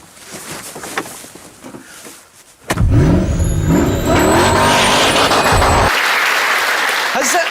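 A 2003 Ford GT pulls away with a loud engine roar that surges and stays strong and steady after a quieter opening stretch, with rising and falling tones as it accelerates.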